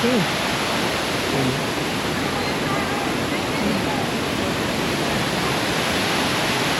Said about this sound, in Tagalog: Nakaharap sa waterfall.